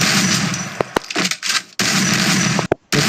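Bursts of rapid gunfire crackle from a Free Fire battle game, loud and close, broken by sudden cutoffs and short gaps, with no voices.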